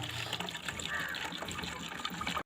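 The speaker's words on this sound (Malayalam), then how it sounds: "നമുക്കിത് വേറൊരു ബോട്ടിലോട്ട് ഞാൻ ഒഴിച്ച് കൊടുക്കാം" A mixture of neem oil and liquid soap is poured from one container into a bottle, giving a close, continuous gurgling trickle and splash of liquid that runs steadily until it stops suddenly.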